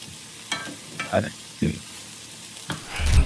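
Peppers and onions fry in a pan at close range, a steady sizzle broken by several louder stirring bursts and clatter.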